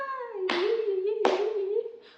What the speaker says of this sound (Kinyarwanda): nkomera amashyi